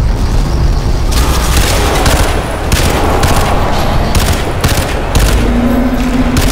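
Rapid machine gun fire in Crysis 2 Remastered, loud repeated bursts with booming impacts and explosions over a dense wash of game noise.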